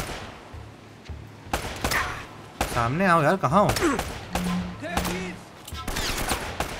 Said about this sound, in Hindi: कोई तो है और गोली चला रहा है कहीं से।